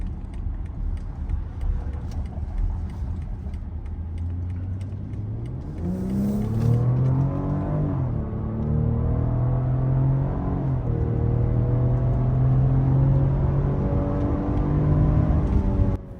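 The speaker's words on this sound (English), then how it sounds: "Let's go ahead and see an acceleration test from the 3-liter inline 6-cylinder engine." A BMW X7 xDrive40i's 3-liter inline-six engine accelerates hard, a steady loud rumble that climbs in pitch and then steps through gear shifts, with no talking.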